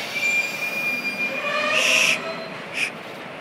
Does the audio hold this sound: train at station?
yes